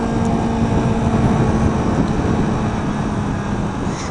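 A 2019 Kawasaki Z400 engine and exhaust drone steadily while the bike is ridden, mixed with broad rushing wind noise, loud and continuous with no voices.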